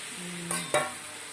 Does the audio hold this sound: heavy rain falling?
no